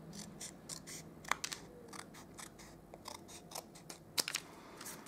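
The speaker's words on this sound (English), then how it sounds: "I'm just going to cut just these tabs off." Scissors snipping tabs off a scored paper popcorn box, a quiet series of close, crisp clicks and short cuts at an uneven pace.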